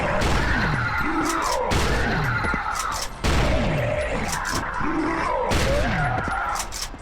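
Shotgun fire in the video game Judge Dredd: Dredd vs Death, loud repeated blasts with booming impacts over a dense, noisy game soundscape, close and continuous.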